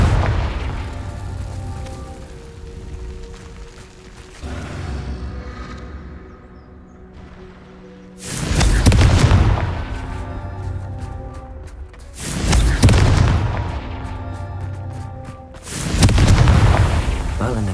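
Confringo fire spell blasts in the video game Hogwarts Legacy, several loud booming explosions in a rhythmic sequence with rumbling tails, under game music and occasional voices.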